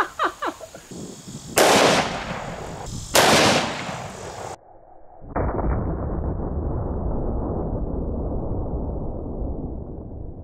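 A 500 S&W Magnum revolver fires two very loud, sharp blasts about a second and a half apart, each with a booming echo. A third heavy report follows and rumbles off into a long, fading tail.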